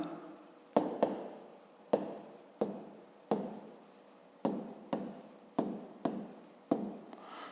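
Pen strokes writing out a school geometry solution, a series of short scratching bursts repeating every second or so, close and clear with no talk.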